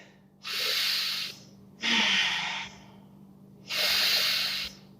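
Slow, audible breaths during a vinyasa yoga pose, three long airy exhales or inhales spaced about a second apart, close and alone.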